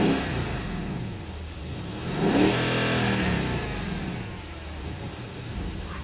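Mercedes-Benz E63 AMG V8, warmed up to operating temperature, rises sharply into a throaty rev that swells, holds and then settles back, close and loud with no voices.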